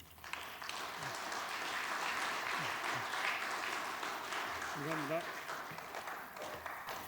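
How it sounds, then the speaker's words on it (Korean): An audience at a Friday prayer meeting at Youngnak Church warmly applauds a speaker walking up, with sustained crowd clapping throughout and voices calling out now and then. "우리 최용규 회장님을 앞으로 모실 때 뜨거운 환영의 박수를 부탁드립니다."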